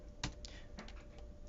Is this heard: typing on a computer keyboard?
yes